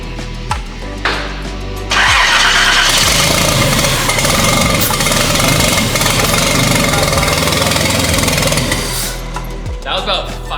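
A race shop engine turns over and fires, catching into a loud, rough running roar that holds for several seconds before dropping off, with a few cranking bursts before it and short talk around it.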